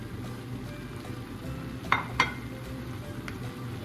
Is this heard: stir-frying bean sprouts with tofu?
yes